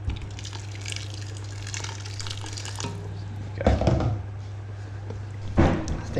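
Water poured into a pot of simmering chilli makes a soft, steady splashing and trickling over a low hum, swelling briefly twice in short louder gushes.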